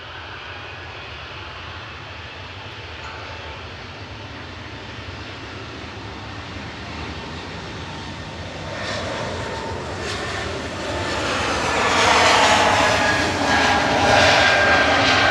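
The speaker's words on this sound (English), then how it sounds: "Next up for departure is Swiss A220-300, a HB JCL with flight 391, heading back to Zurich." A Swiss Airbus A220-300 jet departs Manchester Airport, its engine roar building from a distant hum to a loud, broadband thrust at full power during the takeoff roll, heard alone without voices.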